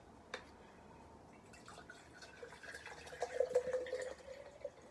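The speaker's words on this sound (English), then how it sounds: "We're going to pour the water in our jar." Water poured into a jar gives faint trickling and a few small splashes that grow louder toward the end, heard alone.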